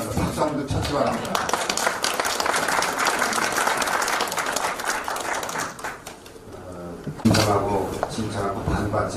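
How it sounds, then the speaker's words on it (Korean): An audience applauds during a regional meeting on the local economy at the Chungbuk innovation city, a broad, sustained wash of clapping heard with a voice speaking through it. "박수 한 번 쳤지 바랍니다."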